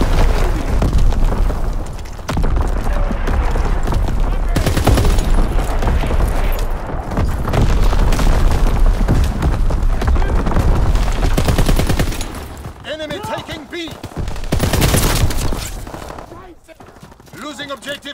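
Dense mortar barrage in the Call of Duty WWII Domination match on Shipment 1944, with loud, continuous gunfire and booming explosions piling up close by. The barrage thins into scattered blasts near the end.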